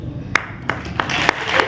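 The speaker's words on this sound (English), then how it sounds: "I want you to give your loudest applause to Beena ji." Audience applause at a club's official visit ceremony, sparse individual claps landing a few at a time, sharp and fairly close, with a faint murmur underneath.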